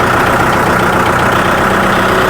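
Japanese-technology tractor with power steering idling nearby, a steady, loud diesel rumble that holds unchanged from start to finish with no voices.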